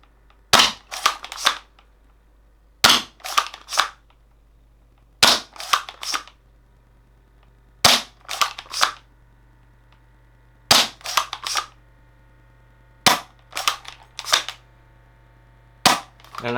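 An M97 gel blaster fires gel balls in quick clusters of two or three sharp snapping shots, a dozen-plus bursts spaced a couple of seconds apart, loud and close against a quiet background.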